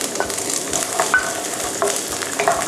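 Vegetables and corn stir-fried in a pan for a bento give off a continuous close sizzle, punctuated by light metallic clinks of the spatula.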